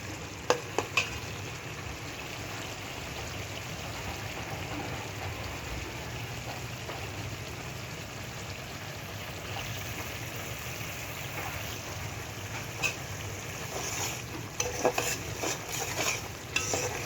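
Spices for bhuna khichuri sauté in oil and a little water in a pot, giving a continuous close sizzle with stirring scrapes and occasional sharp utensil clinks, growing busier near the end.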